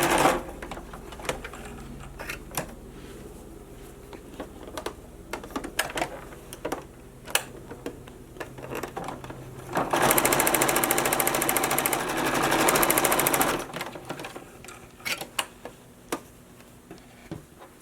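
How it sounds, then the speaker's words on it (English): Sewing machine stitching a fabric face mask, with a steady ticking mechanical rhythm of close clicks and a louder sustained run of rapid stitching in the middle, no speech. "little bit so you don't sew it into the seam"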